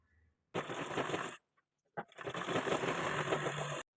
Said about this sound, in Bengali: রাখার পর তোমরা সাইডে হাফ ইঞ্চি কাপড় রেখে এইভাবে সোজা করে সেলাইটা করে নিতে হবে